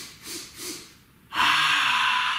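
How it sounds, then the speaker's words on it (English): A kids' yoga breathing exercise: a couple of soft, quick nasal sniffs in, followed by a long, steady breath blown out, close and clear with no talking. "3 quick sniffs in"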